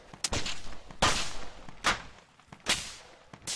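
Gunfire in a military shooter video game as shots hit a village: four sharp, distant-sounding cracks spaced roughly a second apart, each followed by a short rumbling tail, with no talk.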